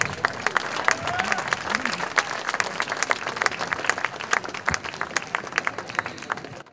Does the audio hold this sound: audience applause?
yes